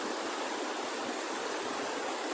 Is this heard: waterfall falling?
yes